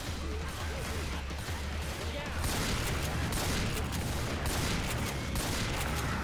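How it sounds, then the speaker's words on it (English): Gunfire in Left 4 Dead 2 crackles in dense, rapid volleys of overlapping shots and impacts, growing louder and more constant in the second half. "These guns are not working too well."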